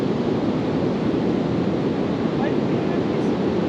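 Sea waves surging and splashing onto a Maine shore during flooding, a continuous loud broadband rush of surf mixed with wind buffeting the microphone, no gaps between waves.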